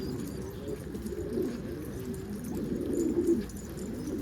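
Pigeons coo steadily while feeding, a soft low murmur of overlapping calls running throughout, close by and moderately loud, with no talk.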